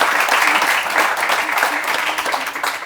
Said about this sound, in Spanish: Por favor, otro aplauso para él.